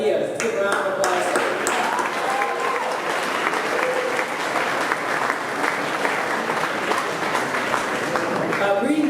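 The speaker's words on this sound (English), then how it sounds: "Give a round of applause." A crowd applauds steadily, dense clapping sustained at an even level throughout, with no pause.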